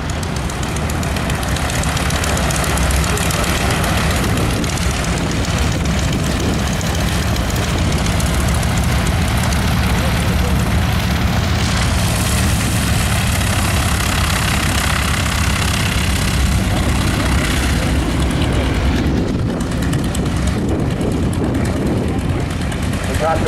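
Aircraft engine idling on the ground at the Wings Over Waukesha air show, a loud, steady broadband drone and rumble running unbroken throughout, with outdoor crowd noise mixed in.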